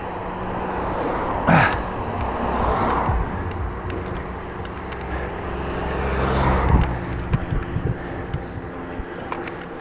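Cars pass a cyclist on a B road, their engine and tyre noise swelling as each one approaches and fades away, with two louder passes standing out over a steady rumble of wind and traffic.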